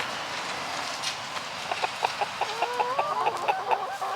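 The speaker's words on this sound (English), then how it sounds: "Run, you big chicken." Backyard chickens, a rooster with his hens, cluck in quick irregular bursts that grow busier toward the end, close by against a steady outdoor hiss.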